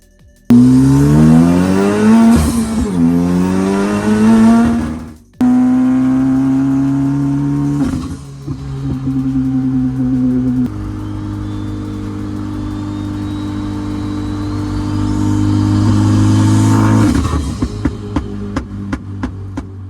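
A Mini fitted with a swapped-in Honda K20C1 engine roars loudly on a track from the cabin, revs sweeping up and down through gear changes, with a dip near five seconds before the engine note climbs again.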